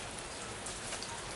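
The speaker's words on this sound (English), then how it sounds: "It's a rainy Saturday here in Louisiana." Steady, dense rain pours down on a rainy day in Louisiana, a continuous even hiss of drops hitting surfaces with no pauses, heard alone.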